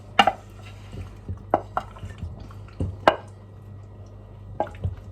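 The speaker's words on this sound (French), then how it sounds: "Je vais continuer encore un peu à mélanger pour que le fromage fonde bien." Creamy pasta with melting cheese being stirred in a pan, giving soft wet squelches and scattered light clinks of utensil against cookware, spaced irregularly over a low steady hum.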